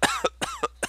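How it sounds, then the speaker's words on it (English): Loud, harsh hacking coughs from a character in a superhero audiobook, five sharp bursts in quick succession with no other sound around them. "Breakdown coughed and hacked loudly."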